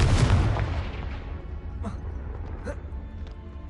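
A Confringo fire spell is cast in the Hogwarts Legacy game, giving a loud booming blast at the start that decays over several seconds into a rumbling tail with a couple of faint crackles.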